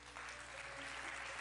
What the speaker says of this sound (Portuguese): Se você puder, dê o seu melhor aplauso